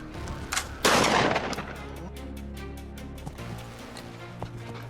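A gunshot during a wild boar hunt rings out as one loud, close crack with a short echoing tail, followed by faint rhythmic clatter and low rumble outdoors, with no talking.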